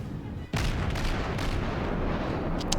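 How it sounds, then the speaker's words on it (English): A warship fires a spread of torpedoes in World of Warships: a sudden heavy blast followed by a sustained loud, dense rumble of launches and battle noise. "I think I shoot a bunch here on the edge"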